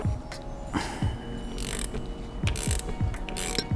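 A ratchet wrench clicks in quick repeated strokes while backing the locking nut off an air suspension rod during an Air Lift Slam Series rebuild, close and clear, with no talking.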